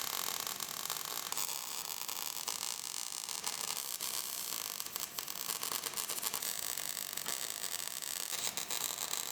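Welding on the frame of a 2015 Chevrolet Silverado LTZ pickup, sealing holes, gives a continuous dense crackling buzz that holds at an even level throughout with no voices.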